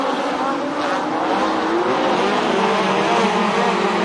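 USAC sprint cars and midgets race on the Santa Maria, California dirt track, several engines roaring together in a loud continuous wall of sound that holds for the whole stretch, with a commentator faintly audible beneath.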